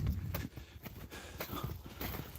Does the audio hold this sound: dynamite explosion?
no